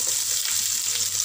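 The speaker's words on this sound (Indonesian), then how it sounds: "saya nak gorengkan bawang besar" Sliced onions frying in oil in a pan, a steady close sizzle with bright crackling spread evenly throughout, no voices.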